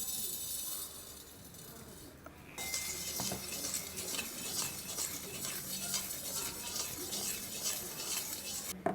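Rock salt roasting dry in a pan while being stirred, a close scraping and gritty rattling of crystals against metal with faint crackle, steady and continuous after a brief quieter start.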